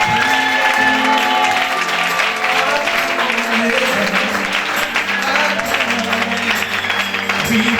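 A church congregation at a prophet's service applauds and acclaims loudly, with dense, steady clapping and raised voices filling the room without a break.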